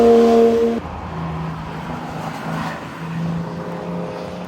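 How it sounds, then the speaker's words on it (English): Race cars circling the Nürburgring circuit, engines droning steadily as they pass at a distance, with the pitch shifting as one car moves away and another holds a lower tone, no talk. "Just enjoy watching some amazing cars go round."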